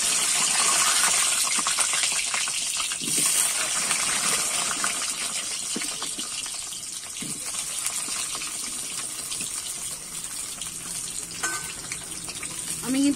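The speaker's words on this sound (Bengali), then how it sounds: "এবারে আমি আলুগুলো ভেজে নেব।" Potato pieces fry in hot oil for an aloo fulkopi (cauliflower and potato) dish, giving a continuous loud sizzling hiss that holds steady throughout, with occasional faint clinks.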